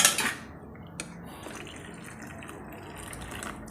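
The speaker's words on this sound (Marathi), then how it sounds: "आणि गरम पाणी वापरायचं, थंड पाणी टाकायचं नाही।" Hot water splashes into cooked dal in a pot, a short burst at the start settling into a soft, steady pour, quiet and without talk.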